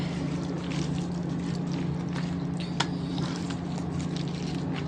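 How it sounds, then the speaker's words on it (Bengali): Dried chillies, mustard seeds and nigella seeds being stirred in a hot pan for pickle, a steady soft sizzle and scraping texture continuing throughout with a faint clink near the middle, no voices. "তো ভালো করে এটা নাড়াচাড়া দিতেছি, জানি নিচে না লাগে"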